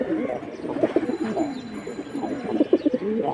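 Jabra pigeons coo repeatedly in soft, throaty rolling phrases, close by, with a few faint chirps mixed in.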